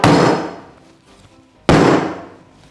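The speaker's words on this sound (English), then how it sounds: "bash it into place on the bench" Two heavy wooden thuds about a second and a half apart as clamped wood is bashed into place on a workbench, each loud and sharp, ringing out and fading.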